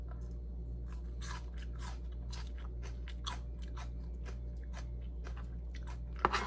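Raw onion from a simple homemade salad is chewed up close with crisp, crunchy bites in a steady rhythm. A low hum runs underneath, and there is no talking.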